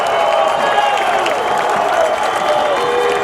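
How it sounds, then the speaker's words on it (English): Fans at a high school football game between Urbandale and Johnston roar steadily on a fourth-and-goal play, a loud, sustained crowd din with faint voices mixed in. "Crowd on both ends are up and loud."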